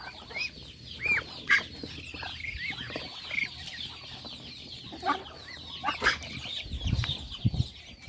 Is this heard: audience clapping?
no